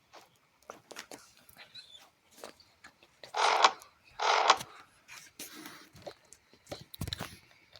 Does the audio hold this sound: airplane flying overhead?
no